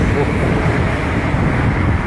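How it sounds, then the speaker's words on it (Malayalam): Wind rushes steadily against the microphone, a loud low buffeting roar with no other clear sounds. "സുഖമുള്ള കാറ്റ്."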